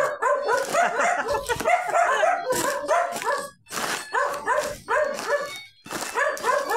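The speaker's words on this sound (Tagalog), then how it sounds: "maingay si Doge" A small dog barks repeatedly on a residential street during junk collecting, sharp close yaps in quick bursts with brief pauses, occasional whimpering yips between them, loud and alone without talk.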